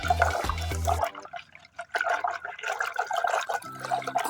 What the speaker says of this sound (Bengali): ছাতুটা খুব ভালোভাবে মিশিয়ে নেব।